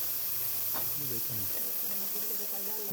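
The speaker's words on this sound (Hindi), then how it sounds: "लहसुन हमारा भुन चुका है" Garlic-ginger paste sizzles in a pan for Hyderabadi-style stuffed aubergines, a constant bright hiss of frying under someone speaking in the kitchen.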